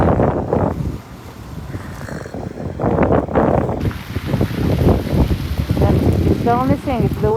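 Strong gusty wind in a New York City snowstorm buffets the microphone with rumbling, blustery noise, underneath close conversation from people out in the storm.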